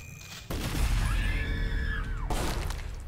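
Gunshot in the video game The Last Spell, a sudden sharp blast that leaves a sustained ringing, whooshing tail with a bending tone lasting about two seconds before a second impact hits.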